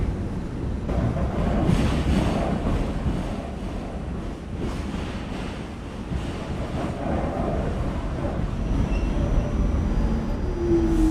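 R46 subway train running on a K local route in a video game, a loud continuous rumbling roar of wheels and track noise with no voices.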